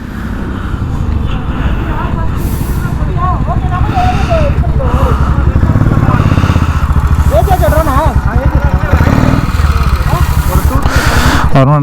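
A large group of roughly 132 motorcycles rides together toward Kolli Hills, a loud, continuous engine roar with rising and falling revs from many nearby bikes, with people talking over it.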